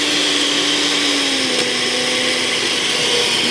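A Cuisinart SPB-600 blender on high whirs loudly and steadily in a glass jar, blending frozen fruit into a thick milkshake, its motor pitch drifting slightly lower as the mix thickens; no talking.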